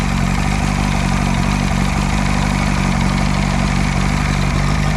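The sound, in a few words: outboard motor engine idling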